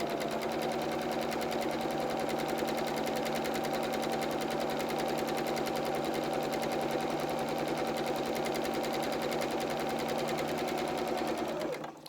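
A domestic sewing machine runs steadily for about twelve seconds, stitching two parallel rows on children's shorts or dungarees; its close, even motor whir and rapid needle patter continue unbroken until it stops at the end.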